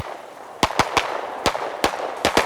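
Sharp gunshots from shooters firing on an outdoor range, about seven loud, near cracks in irregular succession, some in quick pairs, with no talk over them.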